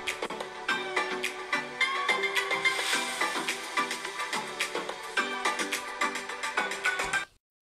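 Music plays through the built-in speakers of a Samsung Galaxy Book2 Pro 15.6-inch i7 laptop at half volume, a steady rhythmic track with clear beats that runs for about seven seconds and then stops abruptly.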